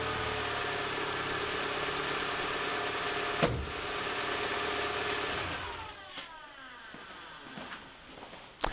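A car engine idles steadily and close after a refit of the exhaust manifold, a low continuous hum with a few knocks and clunks, fading toward the end with scattered handling noises.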